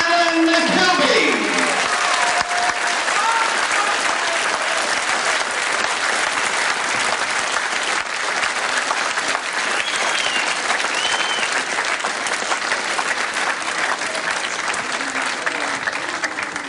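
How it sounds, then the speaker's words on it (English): A World of Sport wrestling crowd claps steadily for the losing wrestler, a dense, loud wash of applause sustained throughout, with a few brief voices near the start and no clear speech over it. "he can certainly see you all clapping"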